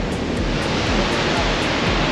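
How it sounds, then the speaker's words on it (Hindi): Roaring water of Niagara Falls in Canada, a dense, steady broadband rush with no breaks, loud and close like heavy spray and surf, with no voices over it. "ये पूरा पानी फॉल में गिरने से उछलता है।"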